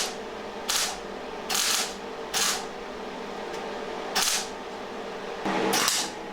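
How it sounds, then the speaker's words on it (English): Short, evenly spaced blasts of a welder bridging small holes in the rear window surround of a Daihatsu Charade car body under restoration, five or six crackling bursts of about half a second each, close and fairly loud over a quiet background. "it's just using short blasts of the welder to bridge these holes"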